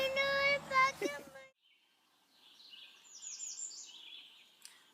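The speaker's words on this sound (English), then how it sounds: "You can hear the birds." Birds call and chirp in a lush, wet fern valley, faint high twittering phrases from a distance following a burst of nearby talk at the start.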